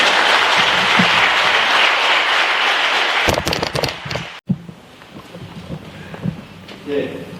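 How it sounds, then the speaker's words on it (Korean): Congregation applause at a silver jubilee anniversary Mass for a priest in a Korean Catholic church, loud and dense for about three seconds, then breaking into scattered, fading claps with murmuring voices and bustle in the room. "큰 박수로 모셔주시기 바랍니다."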